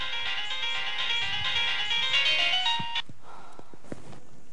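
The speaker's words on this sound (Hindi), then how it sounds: "सुमन का फोन" A phone ringtone for an incoming call plays loudly as a bright repeating melody for about three seconds, then cuts off, followed by faint rustling and small handling noises.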